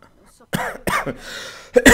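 A person coughs several times in quick succession, close and loud, with rough throaty bursts separated by short pauses.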